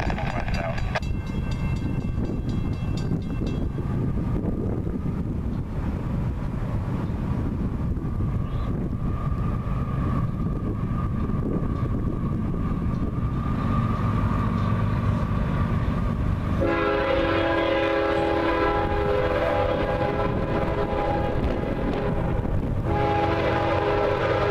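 A CSX freight train rolls past with a steady rumble of rail cars and wind noise, its horn sounding loud and sustained in the second half, alone without talk.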